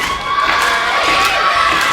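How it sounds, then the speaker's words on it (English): Loud wrestling crowd at a three-way elimination match, cheering and shouting continuously throughout, with high-pitched yells rising above a dense roar. "getting the crowd fired up"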